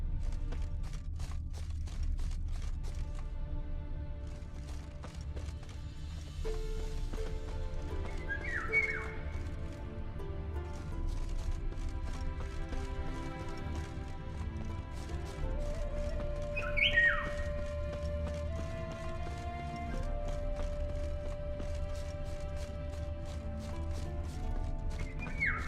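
Horse hooves clip-clop steadily under a bed of music in The Witcher 3, with a horse neighing and whinnying partway through, alongside whistling tones.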